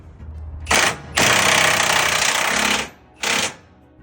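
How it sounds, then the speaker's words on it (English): An impact power tool tightens a shackle hanger nut on a Toyota Tacoma: three loud, close rattling bursts, a short one, a long sustained run, then another short one, with brief pauses between them. "We're gonna go ahead and tighten it down. We're gonna torque it."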